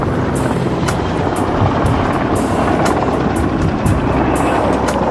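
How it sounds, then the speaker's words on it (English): An unmarked military Black Hawk-type helicopter circles a mountain peak, its loud rotor roar pulsing with rapid, evenly spaced blade slaps over a steady engine drone. "The helicopter is an unmarked Black Hawk-type chopper, often used by special forces."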